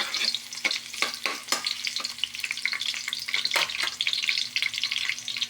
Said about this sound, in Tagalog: Gisa muna tayo ng loya. Brown na natin ng loya para mabango.